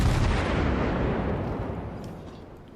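Naval guns of the German cruiser Königsberg boom in World of Warships as they fire high-explosive shells at a Nagato battleship, a heavy, close blast that rumbles and slowly fades over about three seconds.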